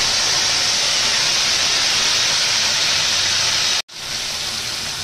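Sajna drumsticks and potatoes sizzle in hot mustard oil with black cumin seeds, a loud steady hiss that breaks off abruptly for a moment near the end and then resumes slightly quieter.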